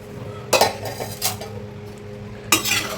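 A spoon stirs rice and water together in a metal pot for chicken biryani. It makes three sharp clinks and scrapes against the pot, with soft sloshing in between.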